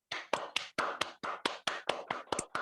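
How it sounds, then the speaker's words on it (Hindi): Audience applause for a doctor being welcomed to give a talk on healthy hair: a series of about ten sharp, evenly spaced clapping bursts, fairly close and moderately loud, with no talking. "ऐसे ग्रेट डॉक्टर को मैं आप सभी के जोरदार तालियों के बीच में इनवाइट करना चाहूंगी"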